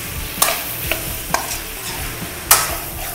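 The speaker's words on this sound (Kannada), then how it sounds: "ನಾವು ಇಲ್ಲಿ ಹಾಕಿರೋಂಥ ಟೊಮೆಟೊ ಸ್ವಲ್ಪ ಮೆತ್ತಗಾಗಲಿ, ಅಲ್ಲಿವರೆಗೂ ಸ್ವಲ್ಪ ಫ್ರೈ ಮಾಡ್ಕೊಳ್ಳೋಣ ಚೆನ್ನಾಗಿ" Onion, drumstick and tomato fry in a pan for sambar, a soft steady sizzle broken by a few sharp clinks as a spoon stirs against the pan.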